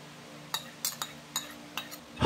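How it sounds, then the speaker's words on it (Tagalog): A spoon clinks against a bowl while stirring chicken macaroni salad with mayonnaise, cream, cheese and condensed milk, giving a series of light, irregular metallic taps close by over a faint hum. "Haluin natin ito ng maigi hanggang maging well combined ang lahat ng mga sangkap."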